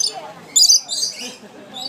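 Birds chirp and squawk in a busy Butterfly World aviary, sharp high calls bursting over a steady background of twittering and chatter, with a child and adults around.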